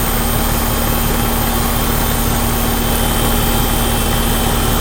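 Copeland reciprocating compressor in a siren setup runs steadily and loudly throughout, a dense, continuous mechanical hum with a strong low tone and broadband whir, no pauses or changes.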